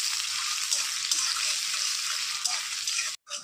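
Onions fry in oil in a kadai with a bright, even hiss and soft crackles, cutting out briefly near the end.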